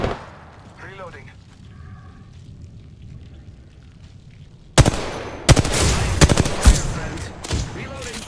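Gunfire in the battle royale game Apex Legends: after a quiet stretch with faint voices, a sudden loud burst of shots erupts, followed by repeated sharp cracks and sustained firing over clutter, close and dense.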